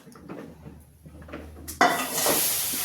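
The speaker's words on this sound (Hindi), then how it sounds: "अब इधर हम चढ़ा देंगे कढ़ाई।" A metal kadhai (wok) is set down onto a gas stove in a home kitchen, where besan was roasted for Rajasthani spinach: soft clinks and scrapes, then a sudden loud clatter and ongoing hiss as it lands.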